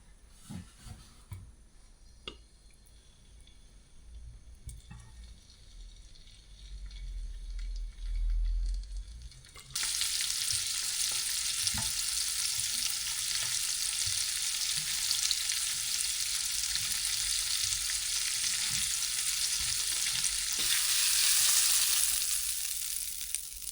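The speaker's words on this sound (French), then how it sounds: "Maintenant, on va faire sauter notre gambas." Prawns hit hot oil in a pan and sauté, a sudden loud, dense sizzle bursting in after a quiet start and crackling on steadily, with no talking.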